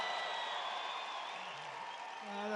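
A large rally crowd in a Wisconsin arena for a Trump event cheers and applauds in a steady, dense roar that fills the space, with some voices mixed in.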